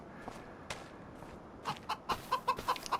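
Chickens in a coop in Farming Simulator 25 give a run of soft, quick clucks, faint at first and then closer and steadier, over light background noise.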